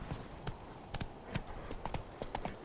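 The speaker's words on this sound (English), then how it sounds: "These winding roads on this horse are hard." Horse hooves on winding roads in The Witcher 3 video game, a rapid, uneven clip-clop of several strikes per second, fairly faint and close, steady throughout with no talking.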